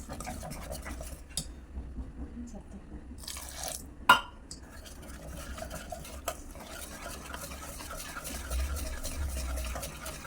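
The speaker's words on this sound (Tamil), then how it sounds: "கொஞ்சமாக தண்ணி ஊற்றி கரைச்சிக்கலாம்." Potato bonda batter stirred with a little water in a bowl, a close wet scraping and sloshing that goes on steadily, broken by a few sharp clinks of the spoon against the vessel.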